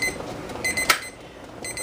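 A kitchen timer beeps in short repeated electronic bursts during boiling-water-bath canning of chocolate mint jelly, loud and close, with one brief clatter in the middle and no talking.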